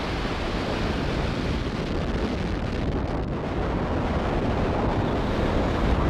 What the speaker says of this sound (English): Engines full power, and liftoff of ViaSat-3. Go ViaSat, go Falcon Heavy.